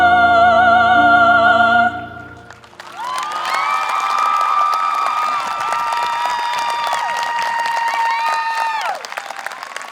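At a Canyon Springs High School graduation, an audience bursts into loud, sustained applause and cheering with whoops as a sung song's final note fades, the clapping crowd filling the space for several seconds.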